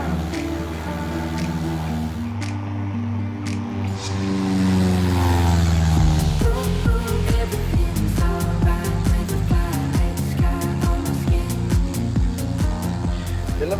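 A propeller aircraft on runway 34 at Wilhelmshaven powers up for takeoff, its engine swelling into a loud, steady, pulsing drone that builds and stays close throughout.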